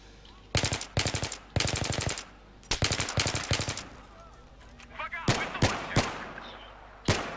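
Sharp bursts of automatic rifle fire ring out in Battlefield 3 multiplayer while shooting at enemies, each volley a rapid string of close shots with short pauses and a few single cracks between.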